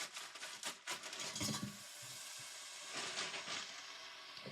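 Onion hitting a hot pan on the hob, with a burst of sizzling and hissing broken by a few clatters of stirring, then settling into a steady, moderately loud fry, with no voices.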